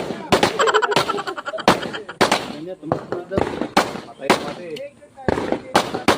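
Gunshots at an outdoor firing range in Silang, Cavite, a series of sharp loud cracks fired at irregular intervals close by, with people talking between the shots.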